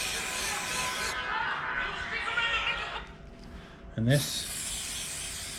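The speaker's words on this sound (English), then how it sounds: "we've got a contact spray. We're going to go round like this, all the way around the edges" Contact adhesive sprayed from a can around the edges of a cloth trim patch during car upholstery re-trimming, a steady broad hiss running about three seconds and then cutting off, with someone talking briefly over it.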